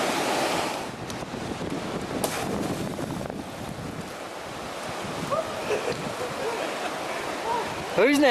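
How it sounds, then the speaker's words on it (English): Ocean waves break against sea cliffs along an exposed wave-cut platform near Cape Grim, a continuous rushing roar with wind buffeting the microphone and a few faint higher calls near the end. "We walked along the exposed wave-cut platform towards Cape Grim and an archway in the sea cliffs."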